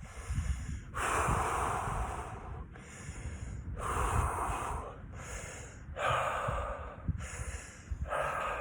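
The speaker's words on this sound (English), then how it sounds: "I try to take deep breaths in and then I just let it out" A person takes slow, deep breaths, drawing air in audibly and letting it out gently, in a regular cycle of about four full breaths, close to the microphone with no talking.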